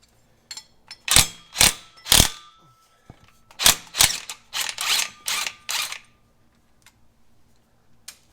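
Ratchet clicks in short bursts as driveshaft bolts on a first-generation Toyota Tacoma are loosened one at a time, sharp close ticking with pauses between strokes.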